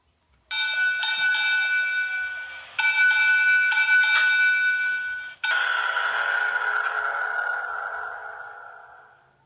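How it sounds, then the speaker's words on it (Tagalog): A ship's bell gives the signal for a vessel aground in restricted visibility, rung in three loud, rapidly struck bursts of metallic clangs, the last one left to ring out and fade slowly. "A vessel aground shall give the bell signal"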